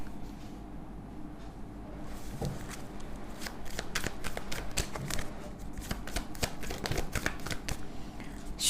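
Tarot cards are shuffled and drawn in a close, dry flurry of riffling and slapping card sounds that grow busier and denser, with occasional quiet speech in the background.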